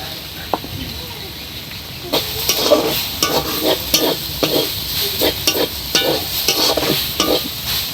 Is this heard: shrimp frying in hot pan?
yes